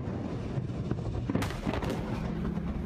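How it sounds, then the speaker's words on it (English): Blast from a chemical warehouse explosion in Tianjin, China: dense, rumbling noise with a sharp broadband burst about halfway through, followed by further rolling booms and crackle, loud and sustained with no talking. "the blast decimating the wall,"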